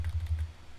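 Brief, quick typing on a computer keyboard during text editing, with several soft, rapid keystrokes heard close by.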